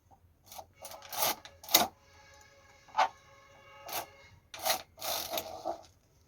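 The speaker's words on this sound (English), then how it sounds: "So I'm going to knit right now." Silver Reed knitting machine carriage knitting a row, heard as a series of near, rasping sliding sweeps with clicks, several bursts of varying length separated by short pauses, no talk.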